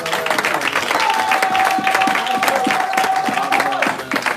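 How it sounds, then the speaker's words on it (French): A church congregation applauds and cheers in praise, a dense continuous wash of clapping with a sustained raised voice ringing over it for several seconds. "Est-ce qu'on peut acclamer le Seigneur?"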